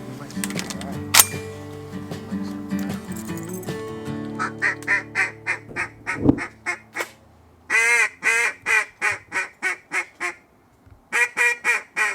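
Ducks quack in rapid, repeated bursts during a Michigan waterfowl hunt, loud and close, following a stretch of mixed outdoor noise and a sharp thump, with several clustered calls toward the end.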